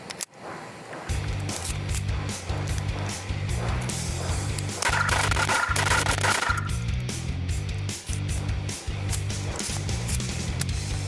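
Gunfire at an indoor shooting range, a string of sharp, closely spaced shots in an uneven rhythm, loud and reverberant, with a short break partway through.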